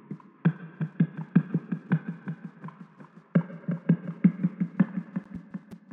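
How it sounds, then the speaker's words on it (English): Chopped beatbox with auto-tune, compression, EQ and reverb thumps in a steady fast rhythm of punchy low hits with snappy clicks between them, looping alone throughout. "I literally kind of just like beatboxed into the mic and then chopped it up."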